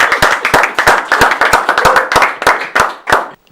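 Sparse audience applause for a government minister, a small group clapping in distinct, uneven slaps that stay fairly loud and close for a few seconds before ending abruptly.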